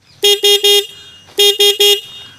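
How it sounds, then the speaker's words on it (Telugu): A loud, close horn on a 2024 Bajaj Pulsar N160 motorcycle honks in two quick bursts of three short toots each, separated by a brief gap. "హార్న్ యొక్క లౌడ్నెస్ అనేది ఒకసారి చెక్ చేద్దాం."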